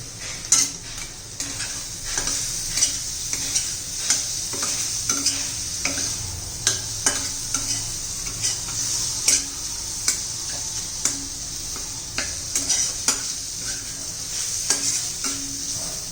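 Crumbled paneer for paneer bhurji stirred and fried in a pan, with a continuous sizzle and repeated rhythmic clicks and scrapes of a spoon against the pan throughout.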